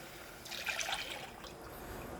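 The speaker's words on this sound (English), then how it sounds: "to the boiling water, we're gonna add 2 cups of coconut milk" Two cups of coconut milk pour into a pot of boiling water, a soft liquid trickle and splash that peaks midway and fades, quiet and close with no talking.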